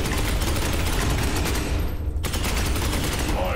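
Bolter gunfire in the Space Hulk: Ascension video game, a dense, continuous roar of rapid shots that cuts out briefly in the middle and resumes at full loudness.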